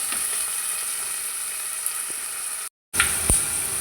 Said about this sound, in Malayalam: വെളുത്തുള്ളി, കാന്താരി മുളക്, കറിവേപ്പില, ഇതെല്ലാം കൂടി നന്നായി ഇളക്കി മൂപ്പിച്ചെടുക്കാം.